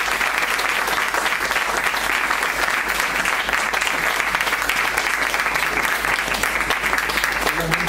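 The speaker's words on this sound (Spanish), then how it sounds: "darles un aplauso" Steady, dense applause from a university seminar audience, moderately loud and continuous for several seconds with no talk over it.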